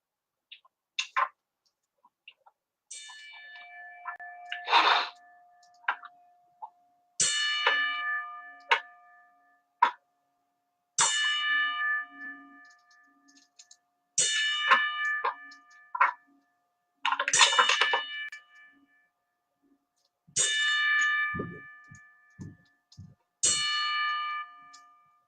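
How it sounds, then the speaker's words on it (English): A ten-bell salute at a wrestling talk show, with a bell rung again and again at a steady pace and struck clearly over a quiet background, each strike ringing out briefly. "we're gonna do a 10 bell salute real quick"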